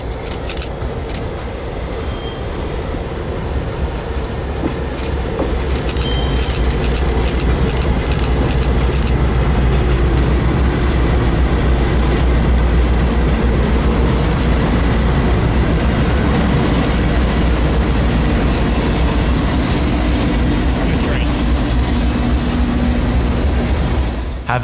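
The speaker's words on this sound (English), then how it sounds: "our train coming off the west side out of New Wales and taking a swing south" A CSX freight train hauling wet rock phosphate through Bone Valley rumbles steadily for the whole stretch, loud and close, with a deep low drone and faint clicking of wheels over rail joints.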